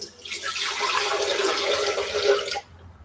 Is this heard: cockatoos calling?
no